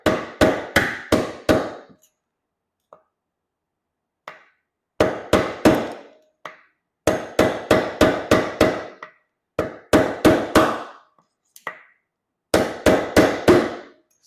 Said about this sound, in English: all you're gonna need is a long flathead screwdriver and a hammer